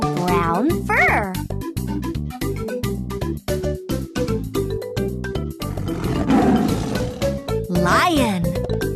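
A Fisher Price Laugh & Learn toy plays a lion roar mixed with a loud musical jingle and recorded child-like voices, close and continuous.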